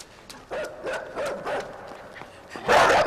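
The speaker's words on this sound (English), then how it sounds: "It's the dog" A dog in a video game barks in a short series of sharp yaps, about five or six quick barks close by, followed by a louder burst of noise at the end.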